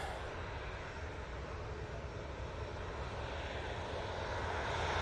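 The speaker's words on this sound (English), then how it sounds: "the Ryanair going back off to Riga now." A Ryanair airliner departing Manchester Airport, a broad continuous jet engine roar swelling slightly as it climbs away.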